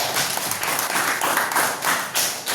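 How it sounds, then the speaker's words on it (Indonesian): A short burst of clapping from a group, steady and fairly close, continuing through with no voices. "Tepuk tangan, luar biasa."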